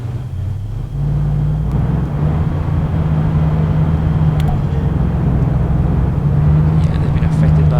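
Vehicle engine droning steadily in the Arma 3 Sentinel mod on Altis, a loud, continuous low rumble that holds from start to finish without a break.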